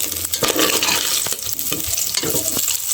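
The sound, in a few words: garlic added to browned meat frying in pan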